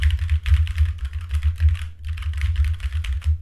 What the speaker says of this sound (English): So I'm sure it picked up the key presses